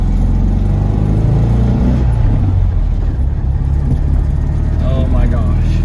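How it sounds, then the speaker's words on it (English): A Porsche 356 engine drones and revs loudly from inside the car on a first drive, its pitch sliding with each gear, while a voice talks over it. "First drive ever in a 356."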